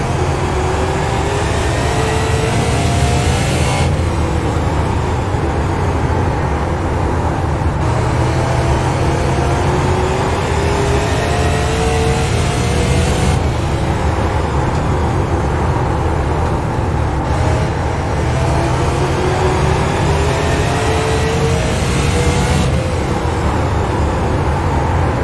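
Stock car engines drone steadily for the whole stretch in a sim racing game set at North Wilkesboro, loud and continuous, rising and falling in pitch through the laps with no talking.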